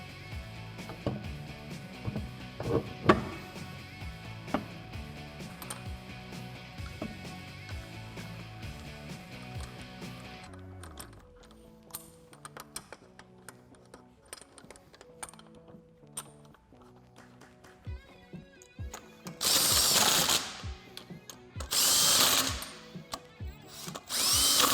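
A power tool fastens lug nuts while wheels go back onto a 2018-2019 Mustang, giving a few loud, close bursts of whirring after quieter background sounds.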